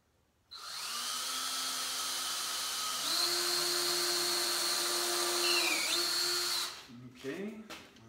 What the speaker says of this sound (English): I'm sure it'll break off as soon as I start drilling with it, because it's so small.